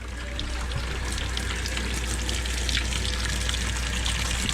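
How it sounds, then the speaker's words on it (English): Hot water gushes steadily from a tap in a constant, hissing stream, close and fairly loud with no pauses. "what I generally do is I run me some hot water,"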